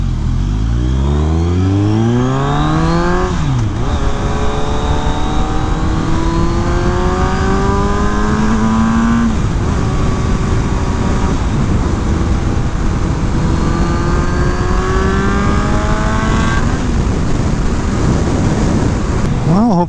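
A 2018 Kawasaki Ninja 1000 with a Black Widow exhaust revs loudly up and down several times, its engine pitch rising and falling in long sweeps against wind noise, close by.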